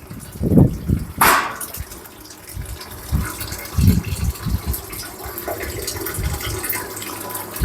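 Water gushes and splashes steadily as it drains out of a tank, with a few louder bursts and thuds early on.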